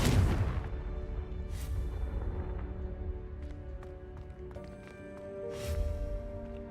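Confringo blasting spell in the video game Hogwarts Legacy sets off a heavy, rumbling explosion at the start that decays into a lingering boom, followed by fainter magical whooshes and a second softer blast.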